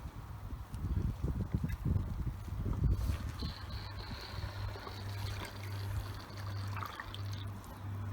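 Water gurgling and sloshing as a 3,500 litre-per-hour garden koi pond pump is pushed down and fills before starting, irregular splashy pulses over a steady low hum, fairly close.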